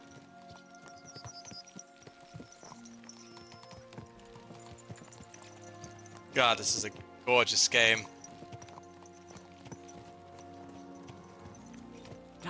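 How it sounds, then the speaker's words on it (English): Galloping horse hooves in Kingdom Come: Deliverance 2, a clop-heavy rhythm running under a steady game soundscape, with two brief louder bursts midway and someone talking over it. "Let's really spur these horses on, eh?"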